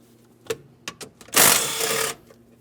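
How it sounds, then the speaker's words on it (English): Removing an 8mm-headed mounting bolt beneath a panel on a 2015-2025 Ford Transit 250 during starter replacement: a few sharp clicks, then a loud, close burst of tool whirring lasting under a second before it stops. "you have 2 8mm headed mounting bolts to be removed"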